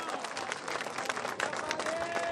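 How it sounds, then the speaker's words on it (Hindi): A crowd claps and cheers to welcome Ashok Gehlot at a political protest rally in Rajasthan. The dense, steady applause fills the whole moment, with a voice talking over it. "ताली बजा के अशोक गहलोत का स्वागत करें।"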